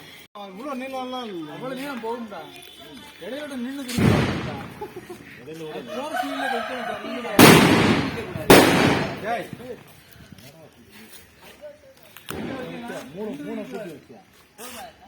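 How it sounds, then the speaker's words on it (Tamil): Rope-guided train firecrackers go off during Diwali celebrations in a town street, several sharp loud bursts and crackling pops scattered across the stretch, with people talking excitedly throughout. "ஒரு புதுவிதமான வெடி வந்திருக்கு நம்ம ஊருக்கு. ட்ரெயின் வெடியா."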